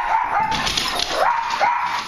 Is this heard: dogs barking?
yes